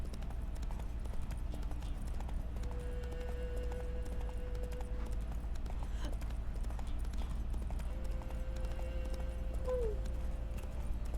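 Horse hooves clip-clop steadily in the game Witcher 3, a quiet continuous trotting rhythm with a low background hum and a couple of brief tonal game sounds over it.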